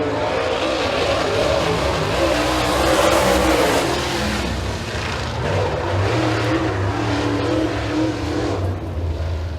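A super late model race car runs a qualifying lap at Eriez Speedway, its engine roaring loudly and steadily throughout with a broad, rough drone that swells and eases slightly as the car circles the track.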